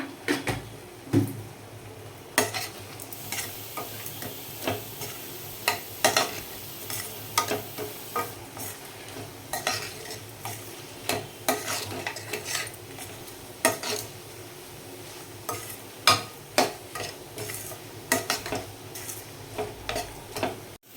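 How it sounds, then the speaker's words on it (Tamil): Repeated scraping and clinking of a spoon stirring mutton curry in a metal pot, with a steady sizzle underneath, irregular strokes continuing throughout. "போட்டுட்டு நல்லா கிளறி விட்டுக்கோங்க"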